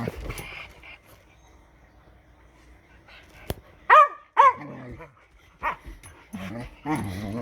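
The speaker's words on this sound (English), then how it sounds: "I give you some puppy playtime." Puppies play and bark in short, sharp bursts with whimpers and panting, the yaps close and loud, while a person talks in between.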